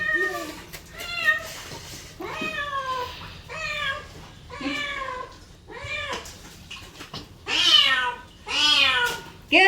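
A kitten meows repeatedly and loudly during a rescue, plaintive cries coming every second or so, growing more insistent toward the end.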